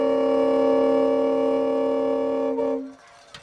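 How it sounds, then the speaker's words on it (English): A loud, steady multi-tone train horn blares for close to three seconds at a high school football game before cutting off abruptly, leaving faint background crowd noise. "there's not a train horn at every high school football game, but there is one at Eastern"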